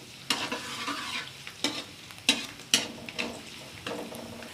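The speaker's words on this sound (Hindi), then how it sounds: "मैं हमेशा की तरह सबसे पहले ऑयल में डालूँगी लहसुन कटा हुआ। इसको मैं सिर्फ 2 मिनट फ्राई करूँगी।" Chopped garlic frying in oil in a pan while being stirred, about seven distinct scraping stir strokes over a soft steady sizzle, close and with no talk.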